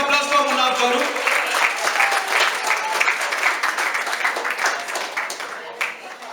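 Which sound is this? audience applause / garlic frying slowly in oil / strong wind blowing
audience applause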